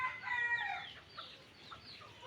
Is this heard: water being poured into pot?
no